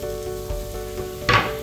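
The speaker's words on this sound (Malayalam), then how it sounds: "അപ്പം നമ്മൾ ചീന ചട്ടിയിൽ കട്ട് ചെയ്ത് വെച്ച പയറും അതുപോലെ പച്ചമുളകും കൂടെ ചേർത്ത് കൊടുക്കുക" Cut green beans and green chillies fry in a wok with a steady, moderate sizzle, broken by a soft thud and a brighter burst of spattering near the end.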